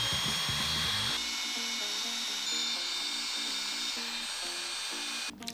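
A powered driver whirs steadily while backing out small 2.5mm screws from the differential cover of a Traxxas Sledge RC truck, a high buzzing motor tone with stepped pitch changes, ending with a short clatter.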